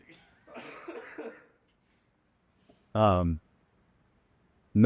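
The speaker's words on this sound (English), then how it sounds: "I need to cough" A single sharp cough, preceded by some faint muffled rustling and followed by a brief voiced burst near the end.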